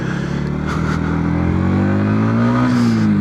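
Motorcycle engine revving while riding, a steady loud drone whose pitch rises and then eases as the throttle opens, close and continuous with no talk.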